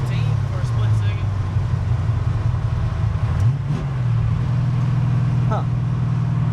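A car engine is floored from second gear, a loud, low drone that rises and holds close by, with a brief dip near the middle before it climbs again.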